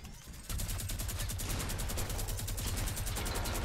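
A minigun firing in Fortnite Battle Royale, spinning up and then blasting a continuous rapid stream of loud, close shots with a heavy low rumble, no talking.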